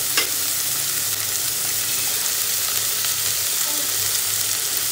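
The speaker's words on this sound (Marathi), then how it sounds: "कांदा चांगला भाजून घेणार आहे मी तेलामध्ये." Onion frying in oil in a home kitchen pan, a steady, even sizzle with occasional stirring, close and continuous throughout with no talking.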